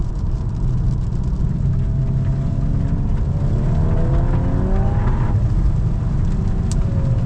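Steady, loud engine roar and tyre rumble from a 2025 Volkswagen Golf R accelerating in drift mode on dirt, heard from inside the car, with the pitch sweeping up as it revs and no talking.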